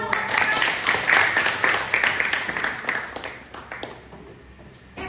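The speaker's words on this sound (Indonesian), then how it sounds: "Oke, tepuk tangan." A classroom full of students clapping, dense and lively at first, then thinning out and fading toward the end.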